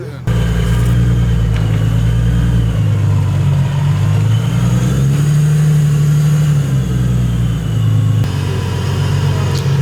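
A supercharged Infiniti G35 engine holds a loud, steady rev on a dyno, its deep rumble swelling and dipping in pitch over several pulls, with voices talking over it.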